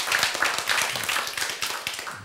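An audience at a Korean lecture breaks into clapping, a dense, steady patter of many hands at moderate loudness, with no talk over it.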